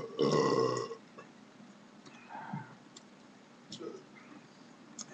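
A loud, deep burp right after a swig of Mickey's Ice 40-ounce malt liquor, then quiet room noise with faint clicks, smaller mouth sounds and a softer second gurgle.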